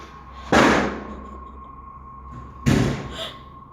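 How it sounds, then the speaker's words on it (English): A door in a dark house slams shut twice, two sharp loud bangs about two seconds apart over a faint steady hum. "the door from the other room has slammed shut again"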